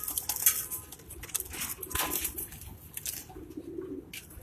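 Pigeons coo softly amid a busy background of rustling and clattering, faint and somewhat distant, with no talking.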